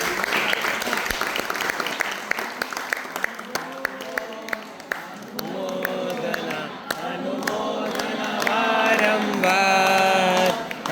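An audience at a devotional gathering claps for children, with crisp individual claps at first, then steady group clapping joined by sustained tonal voices or chanting that swell louder toward the end.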